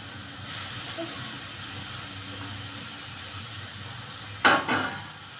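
Onion frying in a pan for beet bhorta, a soft steady hiss of oil with a sudden louder sizzle burst near the end as something is added.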